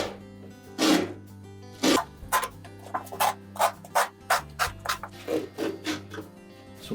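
An old rubber door gasket is tugged out of its channel on a Whirlpool dryer, close up with a series of short, rhythmic rubbing and scraping pulls, alone.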